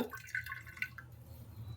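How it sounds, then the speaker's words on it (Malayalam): Water drips from squeezed chopped vegetables wrung by hand in a kitchen: a few brief, faint drips over a quiet background. "പിന്നെന്താ പിഴിഞ്ഞ് മാറ്റാം അത്രയും വെള്ളം"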